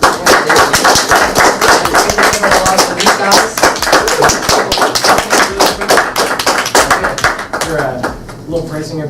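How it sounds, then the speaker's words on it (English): Round of applause at a live podcast, with close, loud clapping and tapping going on steadily while voices talk and laugh over it, fading near the end. "Round of applause, bro."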